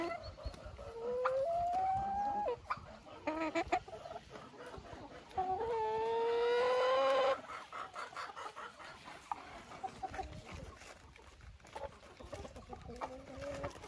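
A rooster and hens in an enclosure, with repeated clucking and longer drawn-out calls rising in pitch, some loud and near, over a low scratchy background of farmyard noise.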